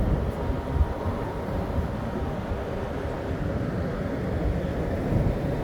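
An MRT train runs along EDSA in Cubao, heard from a rooftop as a steady low roar of rolling wheels mixed with broad city and wind noise, loud and continuous throughout.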